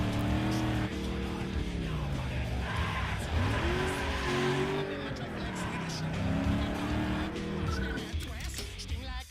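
A Hummer H2 SUV in the Need for Speed Underground 2 video game, driven toward the garage: continuous loud engine roar with rising and falling revs and tire squeal, with music throughout.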